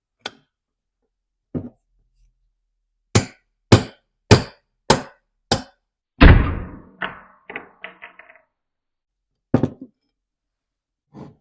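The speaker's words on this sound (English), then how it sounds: "There's a dowel pin here to punch through. I'm going to use a 5/32 or a 4 mil punch." A punch is hammered against a dowel pin in a Stihl MS 260 chainsaw crankcase, giving sharp metallic taps in a steady series of about six strikes. A clattering thud and a few lighter knocks follow, with quiet gaps between them.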